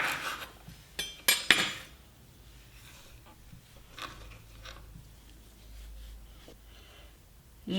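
A knife cuts green beans in half with a few quick, close taps on a board, followed by quiet handling noises and faint clatter.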